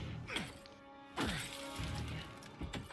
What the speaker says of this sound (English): Unfortunately, he had to break that beautiful car window.